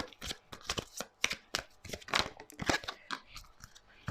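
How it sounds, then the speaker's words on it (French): Oracle cards being shuffled by hand during a reading, a dense run of papery riffles and flicks with sharp crisp snaps, fairly close and steady across the whole stretch with no voices. "Pourriez-vous faire sauter la dernière carte s'il vous plaît?"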